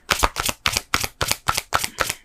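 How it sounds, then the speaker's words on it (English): Tarot cards are shuffled in fast, evenly spaced riffling bursts, about eight crisp papery flutters in quick succession, close and loud with no voices. "We're just going to shuffle again."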